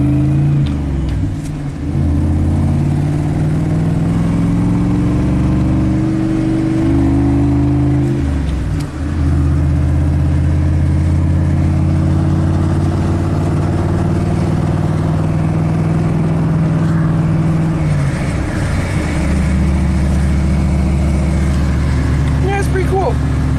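Chevy dump truck with a Vortec V8 and a misfire, rumbling loudly up close as it drives off, engine note rising through gears with brief dips between shifts over about twenty seconds.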